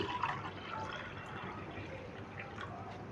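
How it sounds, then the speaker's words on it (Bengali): Water being poured from a mug into a bowl of rice flour in a home kitchen: a soft, steady, faint liquid trickle and splash lasting a few seconds, with no voices. "আমি দেড় বাটি মতন দেড় মগ মতন জল দিয়ে দিচ্ছি"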